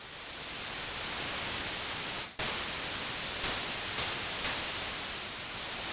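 Noise generator of the Cherry Audio Atomika, a software emulation of the Polivoks synthesizer, producing a steady, loud hiss of broadband static with one brief dropout and a few faint swells in tone.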